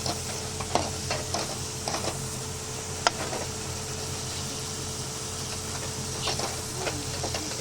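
Chopped onions fry in hot oil for a tadka while a spoon stirs them, giving a steady close sizzle broken by scattered scraping clicks of the utensil against the pan.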